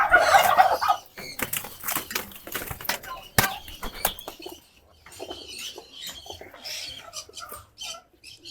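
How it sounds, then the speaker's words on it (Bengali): Female racing pigeons flap their wings restlessly inside a basket, bursts of close wing beats and rustling that taper off, with faint coos in between. "ছটফট করতেছে সব কবুতর।"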